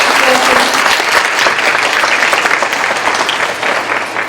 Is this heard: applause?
yes